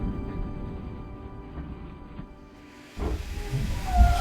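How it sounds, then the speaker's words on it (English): A narrow-gauge steam locomotive stands at a station platform, its fire glowing, letting off a steady hiss of steam that holds throughout and swells louder in the second half. "hissing steam like an ancient dragon of some sort"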